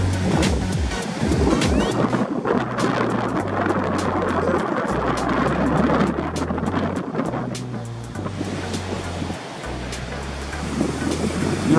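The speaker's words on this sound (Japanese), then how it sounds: "膝ぐらいの波が割れてますね。" Knee-high waves break on the Sea of Japan shore in a steady roaring wash of surf with low rumbling surges, blended with gusty wind buffeting the microphone on a spring evening.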